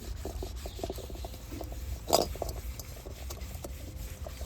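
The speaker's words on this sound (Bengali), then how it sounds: "এবার কত সুন্দরভাবে পরিষ্কার হয় এই কড়াটা দেখুন" A greasy kadai scrubbed with lemon peel gives a steady rubbing, rasping friction with short strokes and one louder scrape near the middle, close and alone without speech.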